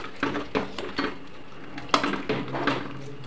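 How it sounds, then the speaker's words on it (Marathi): Masala paste and water are stirred together in a pressure cooker pot for a Malvani-style village chicken or mutton curry, heard as intermittent scraping and clinks of a utensil against the metal pot. "वाटपामध्ये थोडं पाणी घालून कुकरच्या भांड्यामध्ये पाणी घालत आहे. मिक्स करून घेऊया."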